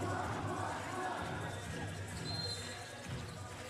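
Loud crowd roar at an NBL basketball game between the Brisbane Bullets and Illawarra Hawks, a steady wash of cheering and babble with faint ball bounces and court sounds beneath.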